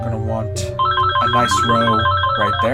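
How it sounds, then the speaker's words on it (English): A telephone ringtone trills in a melodic electronic pattern over Plants vs Zombies gameplay sounds, while someone talks over it. "Sorry about that phone."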